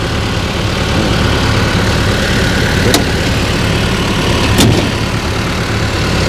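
A Mitsubishi D04EG diesel engine in a Kobelco SK125SR excavator runs loud and steady at close range, a constant rumbling drone with two brief sharp clicks partway through.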